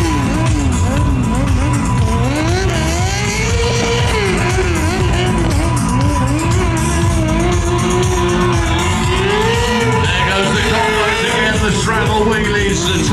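A drift bike with an extended swinging arm revs at a UK monster truck show, its engine note rising and falling in sweeping surges, loud and continuous under a talking voice and crowd noise.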